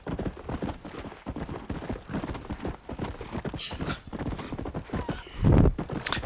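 A horse's hooves clip-clop steadily while it is ridden in the Red Dead Redemption video game, close and rhythmic, with a brief snort or whinny near the end.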